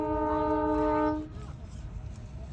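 A loud train horn blares for about a second, then cuts off, leaving a heavy rumbling roar of a train rolling by close at hand.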